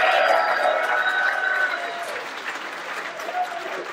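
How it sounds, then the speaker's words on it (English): Audience applause for entertainers at a live evening event with former Newcastle United players, a moderate wash of clapping that gradually thins over four seconds, with voices talking over it. "Let's get a big round of applause for the entertainers"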